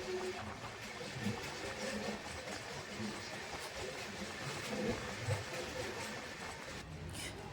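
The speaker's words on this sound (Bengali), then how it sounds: "ট্রেনটা যাচ্ছিলো তখন ঝাড়খণ্ডের মধ্যে দিয়ে" The Azad Hind Express runs through hilly Jharkhand, a steady rumbling roll of the train with rattling and wind noise, heard from near the carriage door, moderately loud and continuous.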